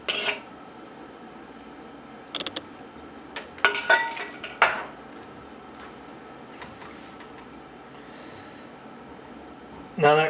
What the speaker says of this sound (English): Get all that lovely coconut out of there.